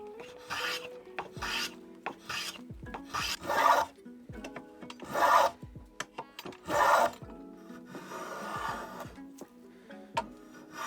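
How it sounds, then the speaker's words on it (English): Hand plane shaving a wooden piece into a hexagonal shape, a series of rasping strokes at an uneven pace, close and moderately quiet, each scrape lasting about a second with short pauses between. "I'm gonna use a plane just to make it nice hexagonal shape"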